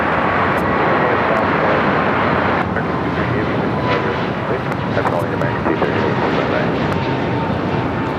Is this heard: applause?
no